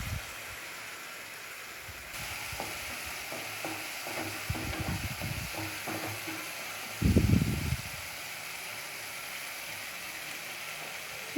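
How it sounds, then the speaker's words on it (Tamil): Soft sizzling of ginger garlic paste in a pan broken by a series of spatula scrapes and stirring knocks, with a louder burst of frying near the end. "நல்லா பச்சை வாசனை போகிற வரைக்கும் நல்லா வதக்கணும்."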